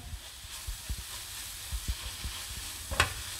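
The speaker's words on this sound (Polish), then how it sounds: "i jeszcze chwilę podsmażamy" Vegetables with herbes de Provence frying in a pan, a steady soft sizzle under irregular stirring knocks and scrapes, with a brighter clink near the end.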